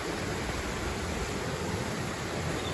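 Stream water flowing at La Noria spring in Tanaquillo, Michoacán, where two springs join, a loud, continuous broadband rush of water close by with no talk.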